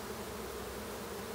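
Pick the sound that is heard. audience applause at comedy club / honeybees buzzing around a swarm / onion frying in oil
honeybees buzzing around a swarm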